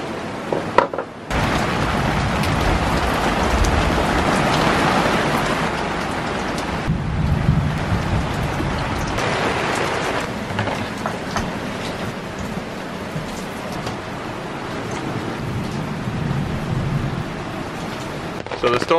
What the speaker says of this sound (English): So the storm hit us.